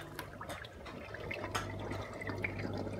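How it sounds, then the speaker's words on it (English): A K1 micro moving bed aquarium filter bubbles and churns the tank water, producing a steady close wash of bubbling and splashing over a low hum. "It certainly seems to be agitating the water quite a lot"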